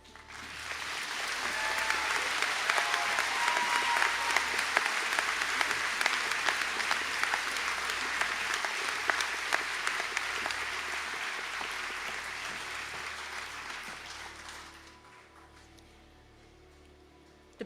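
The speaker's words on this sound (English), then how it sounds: "I'd invite the Bachelor of Business Honours in Business to stand for a round of applause" An audience at a college conferring ceremony in Sligo applauds business honours graduates, with dense, sustained clapping in a large hall that fades out near the end.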